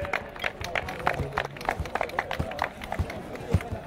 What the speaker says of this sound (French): allez, on applaudit très fort les deux lauréats. Allez, applaudissez-les, s'il vous plaît.